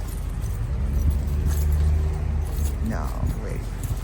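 Car keys for a 1975 Pontiac Trans Am jingle briefly in short metallic clinks beneath a low engine-like rumble, while someone talks nearby.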